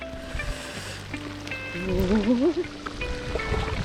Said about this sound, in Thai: ดูจากสภาพฝนแล้วก็โอ้โหแรงมากๆเลยครับ